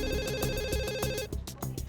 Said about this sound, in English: the phone call is for you.